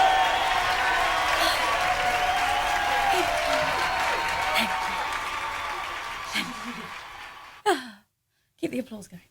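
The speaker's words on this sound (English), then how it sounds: "Keep the applause going." At a Remembrance Day gathering, a large crowd's applause and cheering fills the room as a broad, sustained wash that gradually fades away, followed by a brief silence and a couple of short vocal sounds.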